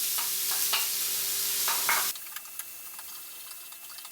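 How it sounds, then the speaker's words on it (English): Onions go into a hot, lightly oiled pan with a burst of sizzling and stirring scrapes, then the frying fades sharply to a quiet hiss with occasional faint ticks. "Nice hot pan, a little bit of oil, going straight in with the onions"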